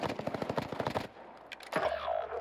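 Rapid bursts of automatic gunfire in Call of Duty Warzone on Caldera Island, a fast, loud rattle of shots for about a second, then a pause and a sharper single report.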